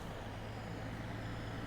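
A steady, loud diesel drone from a Class 150/2 train's engine revving in Train Sim World 2, a dense, bus-like rumble that holds even throughout with no voices.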